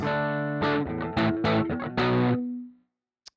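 Electric guitar through a simulated Marshall amp with heavy distortion in Amplitube, a handful of crunchy chords and picked notes in quick succession, ending on a sustained note that cuts off, followed by a short click.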